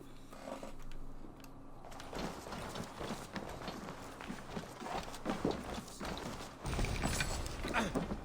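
Horse hooves in Assassin's Creed Valhalla thud in a quick running rhythm alongside rattling tack and gear, with voices talking over the galloping.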